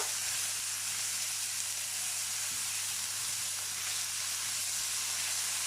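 Lardons browning in a pan give off a steady, close sizzle with a constant hiss that runs evenly throughout, with no voices.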